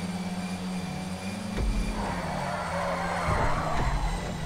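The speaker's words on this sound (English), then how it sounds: "Listen to his engine roar as he's racing along quite happily." A hot pink car in GTA 5 races flat out down a straight, its engine roaring steadily and loudly throughout, with a surge in intensity partway through as the throttle is pounded.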